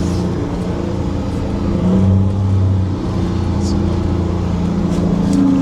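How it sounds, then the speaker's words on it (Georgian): Offroad vehicle engine idles and hums steadily in the cabin on a mountain climb, a low droning rumble with a slight rise in pitch midway, continuous and close throughout. "ეს ხმა ნაცნობი ხმა, რომელიც ჩვენი მანქანიდან მოდის."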